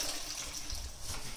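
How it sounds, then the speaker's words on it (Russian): Clean water runs steadily from a tap over boiled meat in a cooking pot, a soft continuous splashing rush with no pause and no talking. "Выливаем наше мясо чистой водой."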